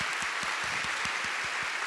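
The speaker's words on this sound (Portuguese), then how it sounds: "Uma salva de palmas, por favor." Sustained applause from a corporate event audience, a dense steady wash of many hands clapping at even loudness with no voices over it.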